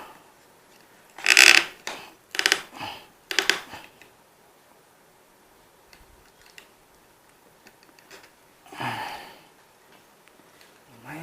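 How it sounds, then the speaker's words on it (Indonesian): A makeshift screwdriver pries and scrapes at a sturdy parcel, making several short, sharp scraping and cracking bursts close to the microphone, with quiet gaps and faint handling between them. "Ini nggak ada obeng, jadi kita pakai obeng seadanya ya."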